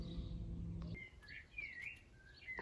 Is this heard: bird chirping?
yes